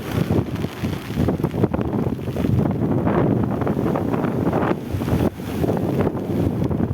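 Strong wind on Brown's Beach in Negombo buffets the microphone with loud, rumbling gusts that swell and dip unevenly, and surf can just be made out beneath them.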